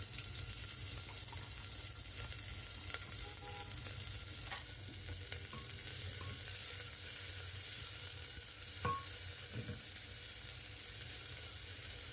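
Onions frying in a pan in a home kitchen, a faint, continuous sizzle with occasional clinks and stirring scrapes over a low background hum.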